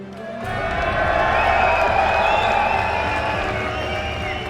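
A large esports arena crowd at a Call of Duty League event in London cheers and shouts for Europe's Reciprocity, a loud sustained roar rising suddenly and holding steady throughout.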